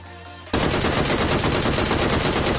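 Rapid automatic gunfire in PUBG Mobile Lite bursts in suddenly after a brief quiet moment, a loud, dense, continuous stream of shots close by.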